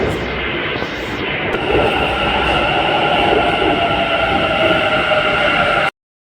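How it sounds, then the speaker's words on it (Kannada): A metro train arrives at a station in a loud, sustained rumble with a rising electric whine and rail noise, close by, before cutting off abruptly near the end. "ನಮ್ಮದು ಮೆಟ್ರೋ ಬಂತು ಗುರು"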